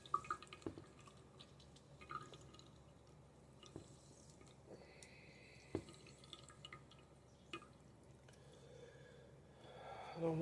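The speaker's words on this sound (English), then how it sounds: "So I'm just going to squeeze some tangerines in there, a couple of tangerines with my water and my fruit mix." Juice from a couple of squeezed tangerines drips into water and a fruit mix, sparse faint close-up drops and small wet squishes in a quiet room, ending with a louder liquid splash.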